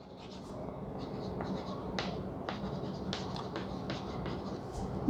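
Chalk or marker taps and scratches on a classroom board during a maths lesson on rational numbers, a faint series of small, regular ticks over quiet room noise.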